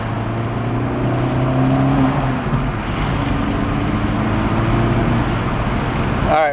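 A car engine with an aftermarket Sprint SF air filter, in an Acura Integra Type S (DE5), drones and rises in pitch while driving, with road rumble underneath and a brief surge near the end.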